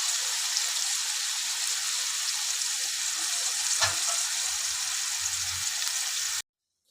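Capsicum fries in oil over a medium flame with a constant, close hiss of sizzling. One faint clink sounds partway through, and the sizzle cuts off abruptly near the end.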